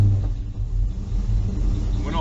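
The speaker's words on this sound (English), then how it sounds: "now I'm gonna start the car up and it should go right off" An LS-engined car starts up and settles into a steady, close engine rumble that holds throughout, with a faint voice mixed in underneath.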